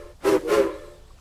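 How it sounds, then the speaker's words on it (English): A steam engine's whistle gives two short, honking blasts that sound like a duck quacking, close and clear, each under half a second, followed by quiet. "Hero blew his whistle. It sounded like a duck quacking."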